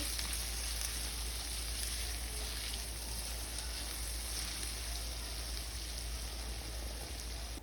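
Finely chopped tomato sautéing in oil in a pan, a steady even sizzle that holds at the same level throughout, with no talk.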